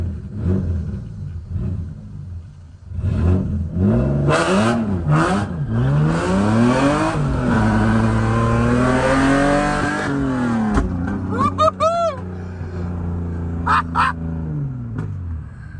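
A six-speed BMW E36 M3 accelerates hard while racing, its engine climbing through several loud revving pulls with gear shifts between them, close and dominant, with a dog barking and brief voices near the end.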